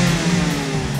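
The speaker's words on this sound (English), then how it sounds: "an extra special feature on this car, which I love, is the new exhaust note" Toyota Yaris exhaust note during a brief rev, a short buzzy engine drone rising slightly in pitch, close and loud with no talk.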